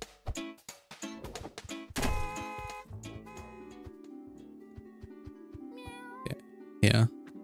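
A cat in the video game Just Crow Things meows repeatedly in short, close, clear calls, with a few thumps and a loud knock near the end.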